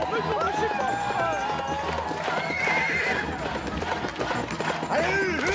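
Horse neighs and whinnies with clip-clop hooves, a plush stick horse toy sound effect at a game show, loud and continuous over a lively crowd and talking voices.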